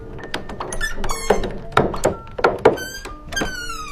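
Door opening with several heavy thunks and creaky squeaks in quick succession, a loud close sound effect over a dark ambient bed, no talking.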